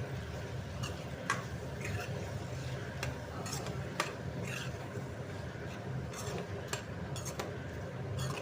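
A spoon scrapes and clinks against a pan as turmeric is stirred into frying potatoes, with irregular metallic ticks over a soft continuous sizzle.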